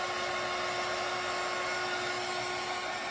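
Hair dryer blowing steadily on wet paint on a small craft wagon, a loud, continuous close whoosh with a steady whine and no pauses.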